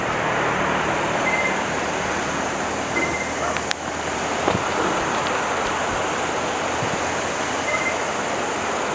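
A river rushes far below a deep drop, heard as a constant broad roar mixed with wind noise at an accident zone.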